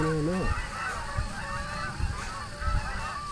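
Waterfowl honk while coming in to land at Stony Creek Beach, a loud burst of honks at the start followed by fainter honking calls and scattered thumps under an outdoor ambience.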